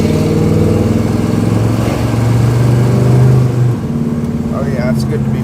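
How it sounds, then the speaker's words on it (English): A Chevelle engine rumbles steadily while driving, heard from inside the car as a loud, continuous low drone that rises briefly before easing off, with people talking over it. "So this is our first drive in the Chevelle for quite some time."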